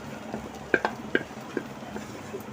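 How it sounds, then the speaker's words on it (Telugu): A paste of ground poppy seeds, cashews and ginger-garlic fries in a pan, with a few distinct metal spatula clinks and scrapes over a low, soft sizzle. "ఇది కూడా కొద్దిగా వేపుకుందాం పచ్చివాసన పోయేదాకా"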